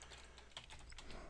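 Keys clatter in a quick run as a command is typed on a computer keyboard while setting up a Raspberry Pi's network, soft close clicks over a steady low hum.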